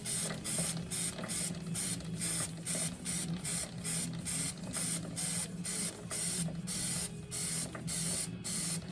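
Cleaner sprayed onto a dirty motorcycle chain in a string of quick, close hissing bursts, about a dozen short sprays in steady rhythm over a low background hum.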